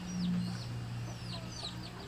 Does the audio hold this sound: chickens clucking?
yes